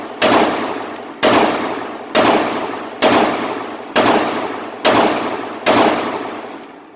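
Seven loud, evenly spaced shots from a Taurus 85 Ultralight .38 Special revolver fired at a target, each a sharp crack with a ringing decay, close and without talk.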